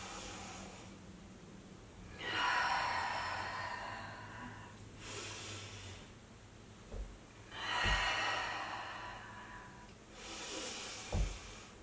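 Slow yoga breathing in a mommy-and-me session, a few long audible inhales and exhales in steady alternation, soft hissy breaths close to the listener with faint low room hum and no talk.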